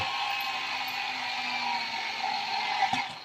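A modified 1550 excavator turning round without a rotation limit gives a steady mechanical whir with a faint ratcheting gear texture, loud and close throughout, then a brief clunk near the end.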